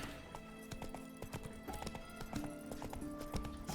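A horse's hooves clip-clop in The Witcher 3 video game as the steed trots along, with crisp, regular hoofbeats over a faint game ambience and an occasional whinny.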